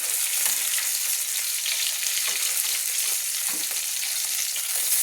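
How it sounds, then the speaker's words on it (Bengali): Pieces of bata fish fry in hot oil while a metal spatula lifts them out two at a time, giving a loud, steady close-up sizzle with a few faint scraping taps. "এইভাবে দুটো দুটো করে আমি বাটা মাছগুলো তুলে নিচ্ছি, তেলটা ঝরিয়ে খুন্তি দিয়ে আমি তুলে নিচ্ছি।"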